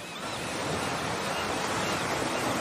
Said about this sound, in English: Some very big waves.